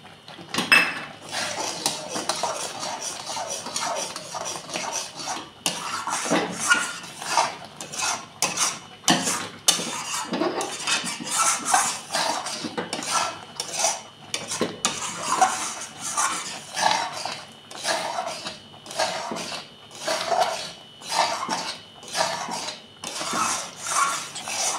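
Stirring of palm pulp kheer in a cooking pot, with the ladle scraping and knocking against the metal in an irregular, steady rhythm of clinks and scrapes, close by, with no talk.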